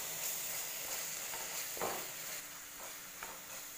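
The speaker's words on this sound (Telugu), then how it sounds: "ధనియా పౌడర్ సరిపడినంత సాల్ట్ వేసి బాగా కలుపుకోవాలి." Coriander powder and salt are stirred into a simmering potato and egg masala curry, producing a soft, continuous sizzle with occasional light scraping strokes, fairly faint and steady.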